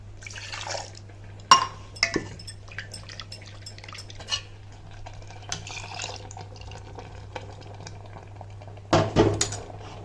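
A steel mixer jar is rinsed with water in a home kitchen while making vathal koozh, with clinks of metal, sloshing and poured water splashing into a pot in sporadic bursts over a steady low hum.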